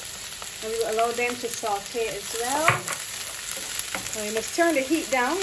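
Chopped onions, garlic and sweet pepper saute in a pan on low heat, giving a steady, close sizzle and crackle that runs under a person talking.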